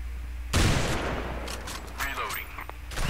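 Gunfire from a PC shooter game played with a controller, a sudden loud burst of rapid shots followed by scattered further shots, with other game sounds mixed in.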